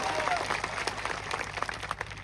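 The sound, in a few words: applause for police officers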